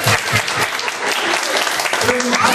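An audience at a family worship class applauds on cue, loud continuous clapping with voices mixed in throughout.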